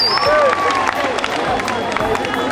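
An audience at a Kololo SSS school gathering claps in a dense, steady patter of applause, with a voice speaking over the clapping.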